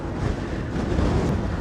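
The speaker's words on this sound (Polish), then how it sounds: "Ale wiatr hula, normalnie słychać." Strong, cold wind gusts against the microphone on an uphill walk outdoors, a continuous loud low rumble with no one speaking.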